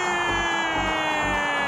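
Vila Nova football supporters in a stadium crowd, a steady roar with rhythmic low swells of chanting under a continuous hum.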